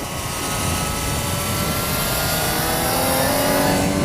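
A Yamaha XJ6 Diversion motorcycle accelerates hard, its engine note rising steadily over a loud, continuous rush of wind and road noise.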